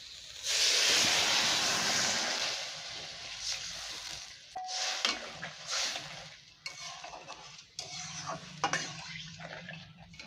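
Water poured onto fried brinjal in a pan, a burst of loud hissing steam at first that settles into softer sizzling with spatula scrapes and stirring.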